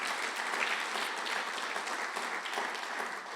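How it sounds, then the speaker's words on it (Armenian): A church congregation in Hamburg applauds loudly together during a worship service, a dense, steady wash of clapping that holds evenly throughout before easing slightly at the end. "Եկեք մա Տիրոջը բարձր ծափարենք։"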